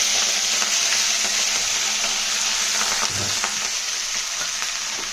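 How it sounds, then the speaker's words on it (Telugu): Onions, green chillies, curry leaves and coriander stems fry in hot oil with popped tempering seeds, making a loud, constant sizzle with faint stirring scrapes close by. "తాలింపు గింజలు వేగాక కొత్తిమీర కాడలు కరివేపాకు పచ్చిమిరపకాయలు ఉల్లిపాయలు ఇవన్నీ దీంట్లోకి వేసాను"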